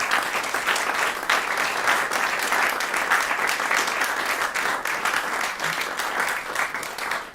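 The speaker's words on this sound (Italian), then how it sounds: "a cui vorrei dedicare un applauso" A sustained round of applause fills a hall at an Italian choral conference presentation, dense clapping from a sizeable audience holding steady for several seconds, no speech.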